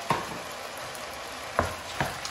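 Onion and carrot pieces fry softly in a pan with a low, steady sizzle, broken by three sharp clinks or taps, and no voices.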